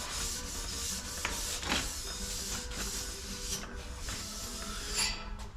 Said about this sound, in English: Scuff pad is just a light pass over it